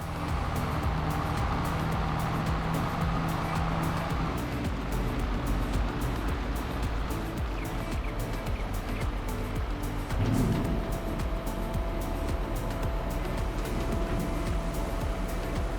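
A tractor engine in a farming video game drones on steadily and close, a continuous rumbling hum that persists throughout without speech.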